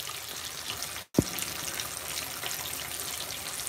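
Water runs from a kitchen tap during cooking of fried catfish, a steady hissing trickle that briefly cuts out and restarts with a splash, continuing evenly with no talk over it.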